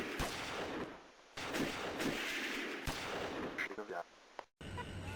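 Sharp gunshots ring out at irregular intervals over a dense, noisy background, like an exchange of fire at moderate distance, during a prison escape.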